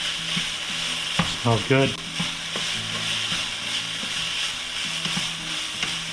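Venison sizzles as it browns in a pan, a constant close hiss with scattered scraping stirs and clinks; someone speaks briefly over the frying.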